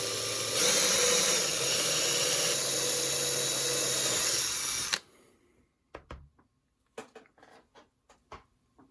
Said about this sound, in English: Try and drill that straight